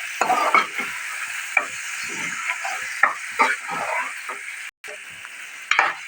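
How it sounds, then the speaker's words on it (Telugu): Mutton frying in oil and ground masala as it is stirred, with a continuous sizzle broken by repeated scraping strokes of a spoon against the pan and a brief dropout partway through. "ఇట్లా ఆయిల్ పైకి వచ్చినాక మటన్ వేసుకోవాలి."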